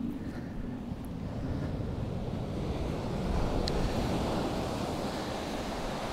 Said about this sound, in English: Great golf, high dunes, the sound of the sea.